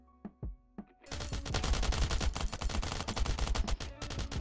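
Heavy gunfire in the mobile survival shooter Last Island of Survival: a few isolated shots, then a loud, dense, continuous burst of automatic fire close by.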